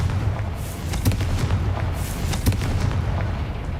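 The Confringo fire spell from the video game Hogwarts Legacy sets off a rumbling run of booming blasts, with repeated sharp cracks over a continuous loud roar.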